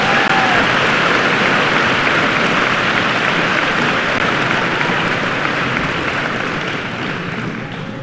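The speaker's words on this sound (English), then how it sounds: "Let's give them a big round of applause." Audience applause at the 107th Richland High School commencement, a dense, steady wash of clapping from a large crowd that holds loud for the full length and tapers slightly at the end.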